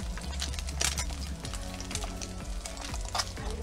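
Breakfast sandwich fillings fry in a pan, giving a steady close sizzle with crackling bursts and a few soft scraping, tapping touches throughout.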